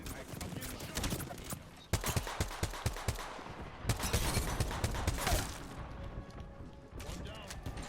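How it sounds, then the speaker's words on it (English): Rapid bursts of automatic gunfire in the video game Apex Legends, crackling in quick volleys with brief pauses, joined by sharp individual shots and mechanical clicks, some talk faintly underneath. "I'm getting shot"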